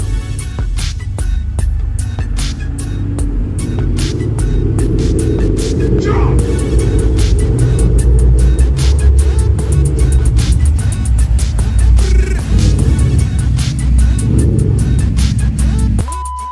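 A supercar's aftermarket sound exhaust system rumbles and throbs loudly and steadily up close, with a deep droning growl that swells slightly midway.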